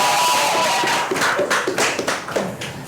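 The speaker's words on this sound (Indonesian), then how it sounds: "Kita beri tepuk tangan." A small studio audience applauds a handball athlete during a talk show, brisk, close hand claps that start dense and taper into scattered, uneven claps.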